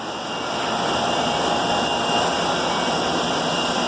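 A 2003 Toshiba ISGS610V21-59B injection molding machine running a 60-second cycle on polypropylene gives a loud, steady broadband hydraulic roar with a constant whine that rises in the first half second and then holds evenly.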